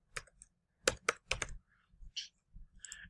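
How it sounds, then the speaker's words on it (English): Fingers typing on a computer keyboard while programming a Roomba challenge, a sparse run of crisp individual key clicks, close and clear in a quiet room, with short gaps between strokes. "I'm going to double click that word, and I'm going to type in bump switch."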